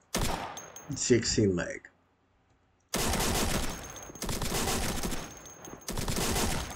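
Rapid video-game gunfire from a fast-firing weapon rattles in three loud sustained bursts, each a dense stream of shots, following a stretch of talk and a brief silence.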